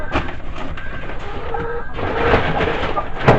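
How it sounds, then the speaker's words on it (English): Chickens and roosters in a homemade off-grid hen house give scattered clucks and short calls at close range, over steady background noise with no talking. "A couple roosters in there."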